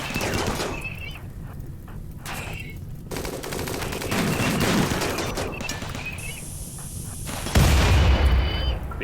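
Turret gunfire against Scyther mechs in RimWorld, rapid rattling bursts of automatic fire that start and stop across the stretch amid clattering combat effects, ending in a louder sustained volley.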